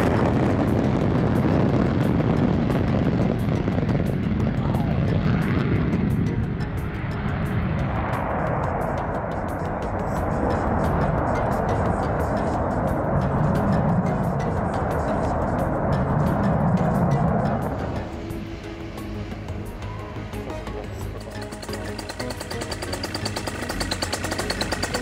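An American F-16 fighter jet performs a flying display at an air show. Its heavy roar is distant and wind-buffeted, swelling and fading over about twenty seconds before it drops away, with no talking.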